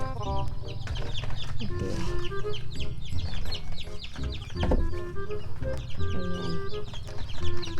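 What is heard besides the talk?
native chickens and chicks clucking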